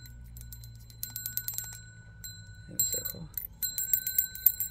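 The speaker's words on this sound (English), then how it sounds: "Oh my god, this little bell." A small bell rings in repeated bright, clear strikes during a reiki ASMR session, its high tones ringing and fading in a quiet room while someone speaks softly.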